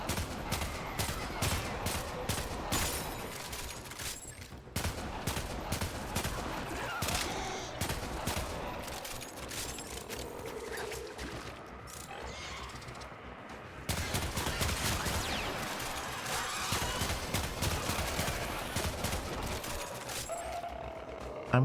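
Handgun fire in the video game Warframe: rapid, steady strings of sharp shots with clacking weapon mechanisms, continuous over busy game sound.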